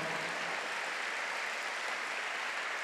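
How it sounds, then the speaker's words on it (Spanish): A church congregation applauds together, a dense, steady wash of many hands clapping at a moderate distance, without a break and with no voices over it. "Dale ese aplauso al Señor."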